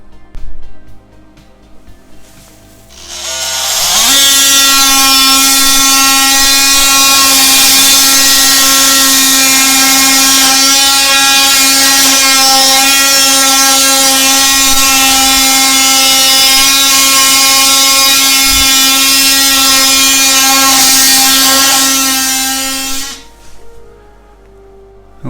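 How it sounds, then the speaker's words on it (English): An oscillating multi-tool grinds out a line of grout between tiles, starting abruptly and running as a loud, steady high buzzing whine for about twenty seconds before cutting off, heard close and alone. "effectively digging out that line of grout along the top"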